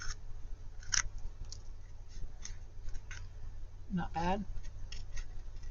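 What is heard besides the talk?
scissors cutting while making a Barbie bucket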